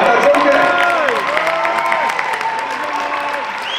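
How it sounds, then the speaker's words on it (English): Audience applause and cheering for a university marching band drumline at a concert, a dense steady wash of clapping from a large crowd with some voices and a whistle mixed in. "You can clap for that, that's okay."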